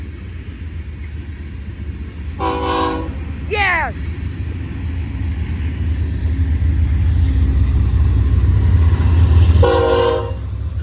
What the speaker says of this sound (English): 2 trains at once.